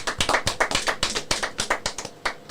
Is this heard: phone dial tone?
no